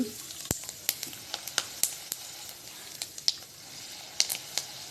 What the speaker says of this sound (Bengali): তারপর এখানে ভেজে নিচ্ছি বাদাম বাদামগুলোকেও খুব ভালো করে এখানে ভেজে নিয়ে এগুলোকে তুলে নিচ্ছি